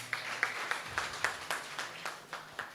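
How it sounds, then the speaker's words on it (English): Scattered hand clapping from a secondary school audience at a moot competition final, a few distinct claps in a loose, steady rhythm, faint and somewhat distant. "Let us clap for them, guys."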